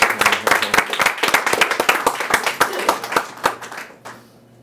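Audience applause at a 1 Million Cups pitch event in Peoria, dense overlapping claps from a crowd, steady and loud before tapering off near the end.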